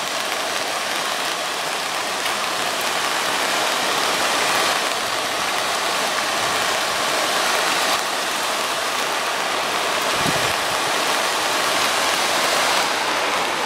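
Turner Falls pours in a constant, full rush of falling water that fills the scene on a rainy day, with a faint low rumble in the background and no one talking.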